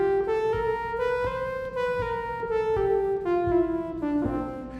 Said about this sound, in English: we're going to start with a dominant bebop scale